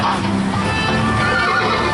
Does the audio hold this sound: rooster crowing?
no